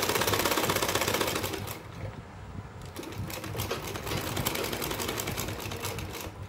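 Sewing machine stitching a buckram blouse, a steady continuous mechanical whir with rapid needle ticks that dips briefly in the middle before resuming.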